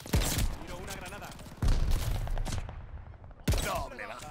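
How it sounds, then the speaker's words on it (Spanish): Call of Duty: Vanguard multiplayer combat: three sharp explosive blasts, a grenade and heavy gunfire, crack out at intervals amid rattling automatic fire, loud and close, with game voices talking underneath. "Tiro una granada."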